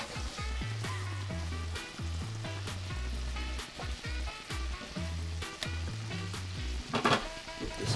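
Red Lechwe backstrap sizzles and crackles steadily in hot oil and butter, a close, continuous frying hiss with scattered pops, joined by soft spoon stirring and a low background hum.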